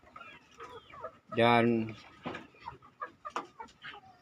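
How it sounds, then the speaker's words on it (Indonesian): Chickens in a backyard coop cluck and squawk in alarm after a monitor lizard gets inside, with one loud, harsh squawk standing out among scattered nearby clucks, and a brief voice heard at the start. "ayam-ayam pada ribut."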